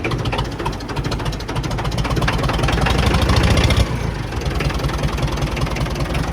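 An old, cheap tractor with an exhaust pipe problem runs steadily up close, its rough, knocking engine throbbing loudly throughout, swelling briefly under throttle before settling back to a chugging idle.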